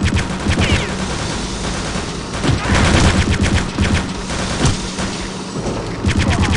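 Continuous gunfire from a gun in the video game Wolfenstein, dense rapid bursts of shots with booming impacts running loud and steady throughout, no talking over it.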